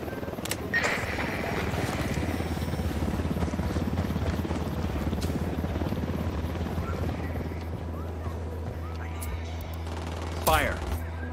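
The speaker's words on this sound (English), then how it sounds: "Who need that chopper?" A helicopter drones steadily in the video game Ghost Recon Wildlands, its low rotor hum running throughout under scattered gunfire bursts and voice chatter, with a sharp burst of noise near the end.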